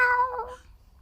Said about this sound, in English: Sorry, is there a cat?